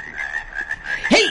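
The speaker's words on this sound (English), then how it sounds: "he's at the World Frog Croaking Championships in Dubai, United Arab Emirates" A toad croaking at a frog croaking championship in Dubai, a sustained raspy buzzing croak followed by a sharp rising call at the end, loud and close with no talk.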